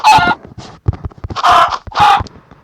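A chicken in the Minecraft video game clucks and squawks in short, loud, nasal bursts. The calls come several times in quick succession, close up, with no talk over them.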